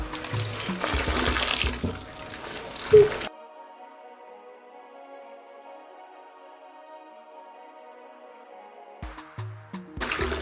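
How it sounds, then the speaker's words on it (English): Running water rinses shampoo out of 4c natural hair, a steady close splashing and pouring that continues for several seconds, then gives way to a quiet hum before brief wet handling noises return. "We're just gonna go ahead and rinse it out again."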